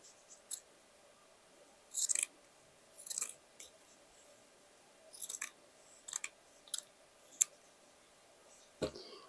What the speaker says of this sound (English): I will cut the sleeves.